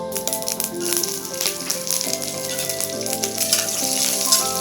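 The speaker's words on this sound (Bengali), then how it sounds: "দুটোকে ভালো করে ভেজে নিচ্ছি।" Black mustard seeds and slit green chillies fry in hot oil, crackling with a steady sizzle and scattered pops and spatters throughout, close and moderately loud with no voices.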